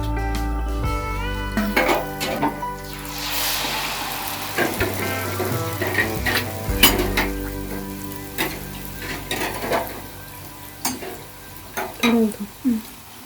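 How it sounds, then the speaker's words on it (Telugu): Rose cookies (gulabi puvvulu) fry in hot oil in a mould, a close sizzle with bubbling bursts as pieces go in and are turned, plus occasional clinks of metal against the pan. "ఇదైతే ఒక సైడ్ కాలింది కదండి ఇంకో సైడ్ టర్న్ చేసి కాల్చుకుందాము"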